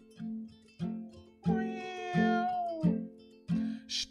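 Singing voices imitate a cat's meow in a German children's song at a kids' concert, a series of about six sung meow-like notes in a steady rhythm, fairly close and clear.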